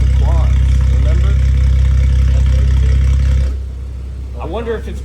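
BMW N55 engine with a valved quad exhaust idling, a loud deep steady rumble close by that drops off partway through, with people talking over it.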